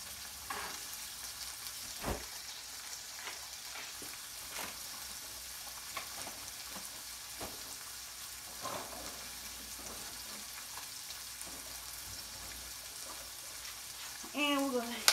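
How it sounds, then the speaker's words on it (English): Peppers sautéing in a pan give a soft, steady sizzle with occasional stirring clatter, fairly quiet and continuous, with a voice briefly at the end. "Okay, I'm adding the peppers."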